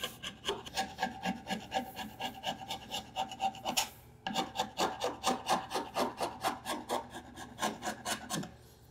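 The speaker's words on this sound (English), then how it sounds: "So take yourself a chisel and let's just grind off that edge a little bit." A chisel grinds the sharp edge off a wood stud in a rapid run of close, rhythmic rasping strokes, roughly two dozen scrapes with a brief pause midway and no talking.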